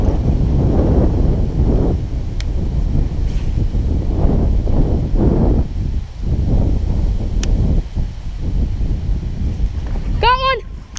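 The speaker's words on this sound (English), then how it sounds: "so windy." Strong wind gusting outdoors on a bass fishing trip, buffeting the microphone in heavy rumbling bursts, while people talk and exclaim over it.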